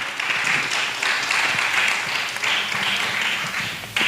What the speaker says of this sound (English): Clap for them as the pictures are being taken.